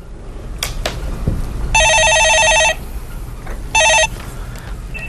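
A telephone rings with two bursts of an electronic bell tone, the first about a second long and the second shorter. It sounds loud and near over a quiet room with faint background noise.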